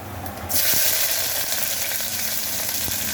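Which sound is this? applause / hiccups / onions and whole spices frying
onions and whole spices frying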